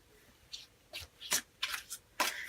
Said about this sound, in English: I'm going to just do a quick shuffle.